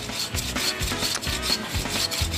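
Someone saws through wood by hand, making even back-and-forth rasping strokes about twice a second. The cutting is close and moderately loud, and no one speaks.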